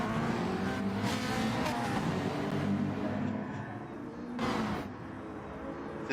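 Several video game race cars, Alfa Romeos, McLarens and Ferraris among them, roar away together at a race start. Engines drone steadily with rising revs and a brief louder swell near the end, all at moderate distance.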